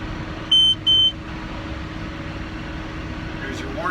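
Round baler's net wrap warning sounds as two short, loud electronic beeps in quick succession, over a steady tractor engine drone with faint fan-like hum.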